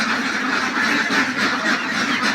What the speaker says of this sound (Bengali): এগুলি আপনার সব রানিং ডিমের হাঁস